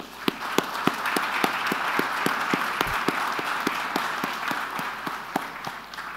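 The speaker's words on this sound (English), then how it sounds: "Give them a round of applause." Audience applause at an innovation hub demo day, a steady wash of many hands clapping with sharper individual claps standing out, continuous and moderately loud throughout.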